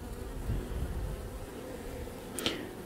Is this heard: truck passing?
no